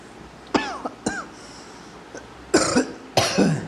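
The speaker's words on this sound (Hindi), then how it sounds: "थोड़ी खांसी आ गई थी" A man teaching a maths lesson coughs several times in close succession. The harsh, loud bursts are near the microphone and come without speech.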